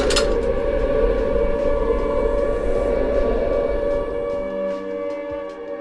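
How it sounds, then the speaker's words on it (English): A loud, steady wailing siren in the Silent Hill video game drones on with a harsh, eerie tone, holding for several seconds before fading slightly at the end. "After the fight, a siren sounds,"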